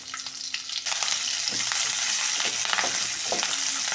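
Chopped onion and curry leaves sizzle in hot oil for a capsicum gravy, a steady loud frying hiss with a few soft stirring scrapes at intervals and no talking.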